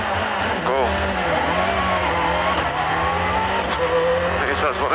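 A Toyota Corolla WRC rally car launches from the start line at the 2004 Miskolc Rally, its engine roaring loud and close with rising and falling revs while a voice talks over it.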